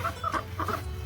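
Layer hens feeding on bran and corn give soft, repeated clucks in short bursts, close by over a low steady background hum.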